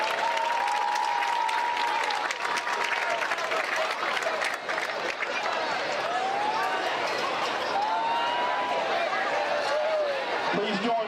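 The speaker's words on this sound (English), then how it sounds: "Please join me in a round of applause for these Army Junior ROTC seniors" A crowd claps continuously for Army Junior ROTC seniors at a school event, a broad sustained roar of applause with a mixed crowd murmur underneath and voices calling out through it.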